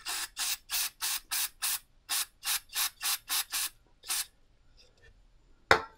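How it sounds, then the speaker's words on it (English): Compressed air blown through an engine port on a 2014 Kawasaki KX250F, as a steady series of short, sharp hissing bursts, then a pause and a single loud thump near the end. "I'm going to blow through this port right here and make sure that that is coming out"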